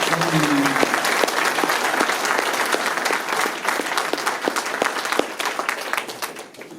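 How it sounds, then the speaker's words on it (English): Audience at a North Dundas all-candidates' meeting in 2018 gives steady applause, many distinct close claps blending into a lively round that thins toward the end, with a brief voice at the start. "So I think we owe them all a huge round of applause for sticking."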